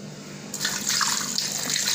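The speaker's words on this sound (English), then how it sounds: "So you add water." Water pours into a cooking pot while making ifokore, a steady splashing rush that starts abruptly after a short quiet moment and continues close up with no talk.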